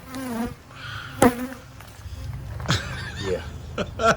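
Bees buzz around an exposed hive that has been opened up inside a house wall after plywood was pulled away. A steady drone runs beneath people talking nearby, with a few sharper knocks along the way.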